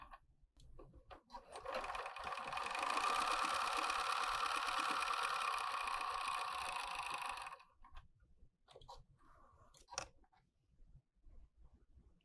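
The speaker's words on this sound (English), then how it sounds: "Just gonna top stitch that side." Sewing machine top-stitching along the side of a fabric drawstring bag, running in one steady, even whir for about five seconds, then a few quiet clicks and handling noises once it stops.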